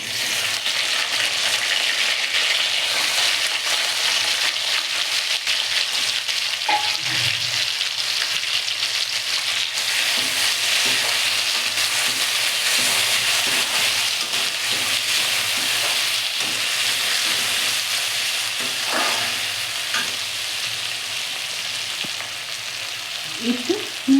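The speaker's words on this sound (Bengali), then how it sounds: "এবার আমি এক এক করে এই টমেটো, আদা, লঙ্কা, পেঁয়াজ, রসুন সব ভাজবো।" Tomato, ginger, chili, onion and garlic frying in hot oil in a kadai make a loud, continuous sizzle for a long stretch, with only a few faint stirring knocks and no voices.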